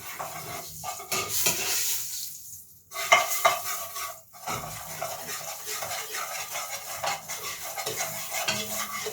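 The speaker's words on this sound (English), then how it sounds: "this is where I burn my curry" Curry sizzles and fries in a hot pot for Jamaican curry beef, with steady crackling broken by stirring and metal scraping against the pot, close and fairly quiet, no voices.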